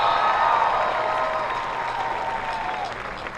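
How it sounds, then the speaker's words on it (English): Steady applause fills a graduation ceremony for a high school class of 2022, honoring a retiring coach; broad clapping with crowd noise stays fairly loud throughout, with a faint voice over it near the end. "One more round of applause."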